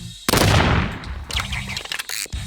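Gunfire from an M1 rifle in a video game: a sharp loud burst of shots followed by a run of quicker, lighter cracks and clatter, close and alone without talk.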